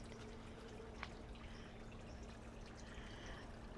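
Water trickles softly and continuously in a small garden water fountain, faint and steady, with no other sounds.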